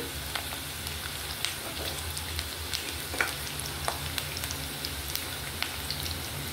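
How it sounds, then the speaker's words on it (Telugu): Onions sizzling in hot oil with green chillies and curry leaves, the base for a spicy mutton curry, give a steady close frying crackle with scattered sharp pops and no talk. "ఇప్పుడు ఉల్లిపాయలు బాగా వేగాలి."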